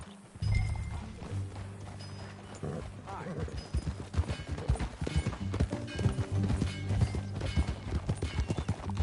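A horse ridden by John Marston in a video game hammers out steady, rapid clip-clop hoofbeats over a running score, with voices heard now and then.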